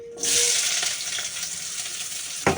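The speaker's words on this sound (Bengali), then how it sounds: "তেল আমার গরম হয়ে গেছে পেঁয়াজটা দিয়ে দিই" Sliced onion drops into hot oil and sets off a sudden loud sizzle that settles into a steady hiss with faint crackles, and a brief clatter comes near the end.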